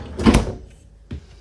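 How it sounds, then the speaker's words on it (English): A double drawer freezer in a 2023 Sierra 399LOFT RV is pulled open, giving a close, short sliding thump followed by a second brief knock. "Double drawer freezer"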